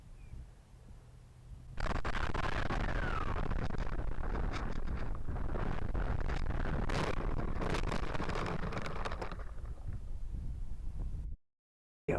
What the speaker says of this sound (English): Quite a strong headwind.